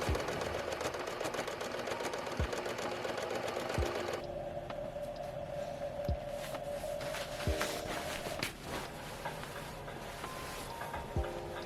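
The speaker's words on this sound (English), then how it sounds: "now I'm going to sew this all around," Sewing machine running steadily while stitching around a corset dress, a fast continuous mechanical whir and needle chatter, close and fairly quiet, with the motor pitch shifting slightly partway through and occasional light knocks.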